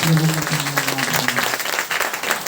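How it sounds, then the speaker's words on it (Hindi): A congregation at a Sunday church prayer service claps in a fairly dense, continuous patter, with a preacher's voice speaking over the start before the clapping carries on alone. "प्रभु के लिए तालियां हो जाएंगी"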